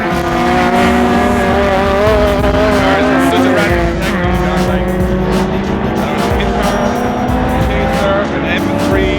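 Race cars, including racing Honda Civics, lap a circuit: loud, continuous engine roar with shifting pitch as cars accelerate and pass nearby, along with tire noise and a person talking over it.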